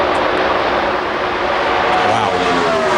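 NASCAR race cars at full throttle during the 2003 Brickyard 400 at Indianapolis give a loud, continuous roar that merges into a steady wash of engine noise, with no break across the whole stretch.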